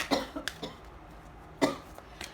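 A few short coughs sound close to the mic, two quick ones at first and another pair a moment later, with quiet pauses between.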